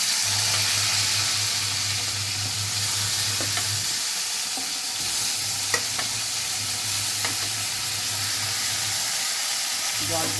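Salted bitter gourd (karela), softened with salt and turmeric, hits a hot pan and gives off a steady, loud sizzle with a low hum underneath, lasting the whole stretch with no voices.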